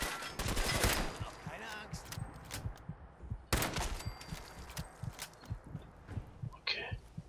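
Weapon fire in Fallout 4: a few heavy, booming gunshots land in quick bursts near the start and again midway, with thudding footsteps and game clatter between them and a brief voice near the end.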